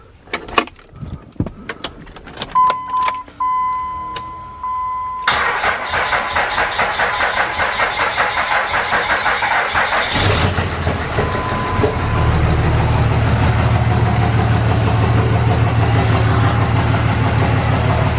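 A 3rd gen Cummins diesel on a truck, just after injector work on the number 5 cylinder, cranks through clicks and a long starter whir, then catches and settles into a loud, steady, rattling idle that deepens toward the end.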